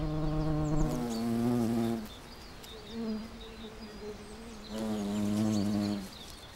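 A buff-tailed bumblebee, newly out of hibernation, buzzes its wings to warm its body, a close droning hum in two bursts that rise and sag in pitch, separated by a quieter stretch.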